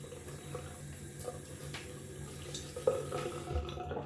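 A cold tap runs into a bathroom sink during a wet shave, a steady, fairly quiet stream with small splashes and a brief louder gush near the end.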